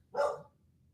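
A single sharp bark from a female dog, fairly close and loud, during a severe thunderstorm, followed by quiet.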